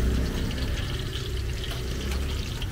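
Battered banana slices deep-fry in a pan of hot oil at a long-running street banana-fritter cart, a steady, close crackling sizzle that continues evenly without talk.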